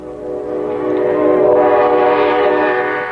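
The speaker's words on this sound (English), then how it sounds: "The candidate and his train were rolling along." A presidential candidate's campaign train rolls past on a cold Sunday in Greensburg, Pennsylvania, its horn sounding loud and sustained over the rumble of the cars for about three seconds.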